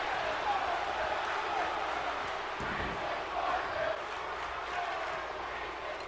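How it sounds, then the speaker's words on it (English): A wrestling arena crowd in the WWE 2K video game chants and roars as a steady, dense wash of voices, with commentary talk over it. "you hear the crowd just still chanting for Tyler Breeze"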